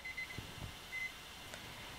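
A countdown timer at a live online auction gives short, thin electronic beeps, two quick ones and then a longer tone, faint against a quiet hiss.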